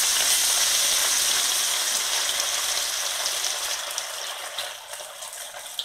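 Masala-marinated rohu fish pieces frying in hot oil: a loud, dense hiss at first that gradually softens and thins, with a few small crackles near the end, heard close up and without voices.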